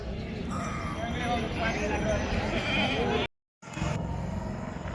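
Goats for sale bleat repeatedly over a busy background of buyers' voices and noise, with a brief moment of silence partway through.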